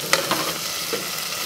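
Onions frying in oil with crushed fenugreek leaves for a methi corn pulao, a brief crackling sizzle broken by a few quick spoon strokes, close up and without voices.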